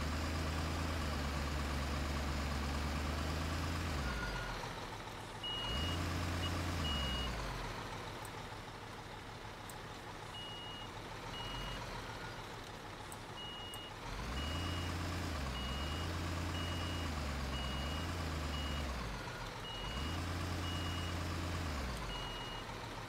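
Truck reversing beeps from Construction Simulator ring out in steady repeating pulses over a rumbling idling heavy engine, with the engine revving in periodic low surges between beep runs.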